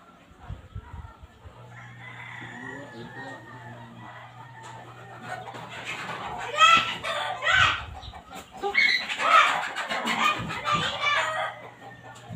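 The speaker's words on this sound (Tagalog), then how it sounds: "Inaway na naman ni mama yung manok." Chickens cluck steadily and a rooster crows loudly at close range in a Filipino home, the calls repeating over a low constant hum.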